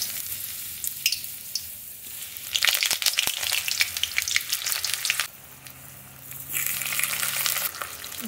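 Potatoes dropped into hot oil alongside meat coated in salt, turmeric, pepper and chilli powder, giving a loud close crackling fry with bursts of spitting sizzle that swell and ease, with no voices.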